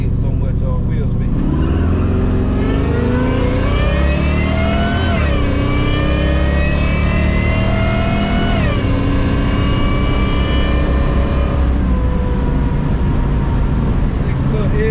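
A supercharged Cutlass launches hard on a quarter-mile drag run, its engine roaring loud and close as it climbs through several gear shifts, each rising pitch dropping back before pulling up again, continuous throughout.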